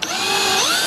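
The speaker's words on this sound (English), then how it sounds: "I'm going to drill right into that again" A power drill whines briefly as it bores into a plastic fender flare on a 2008 Yamaha Rhino, a close, rising motor pitch lasting under a second.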